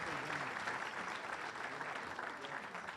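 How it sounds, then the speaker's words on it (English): Audience applause for panelists at the close of a leadership conference session, a dense, steady clatter of many hands clapping evenly for about three seconds with no voices above it. "let's give a round of applause to our panelists."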